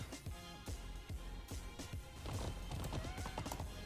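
Steady galloping horse hooves clip-clop in the Alicia Online game, a rapid rhythmic thudding with occasional whinnies over background game music and ambience.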